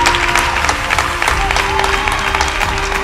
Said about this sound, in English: Can somebody clap their hands?